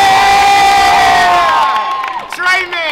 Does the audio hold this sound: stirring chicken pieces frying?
no